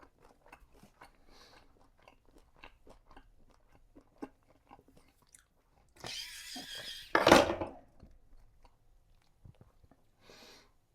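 Chewing a homemade apple turnover with a golden, crispy-ish pastry crust, soft close mouth noises and small clicks, then a louder burst of crunching and chewing before quieting again.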